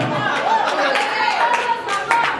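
A burst of clapping and applause from a small audience at an awards ceremony in a hotel, steady and close, with chatter mixed in underneath.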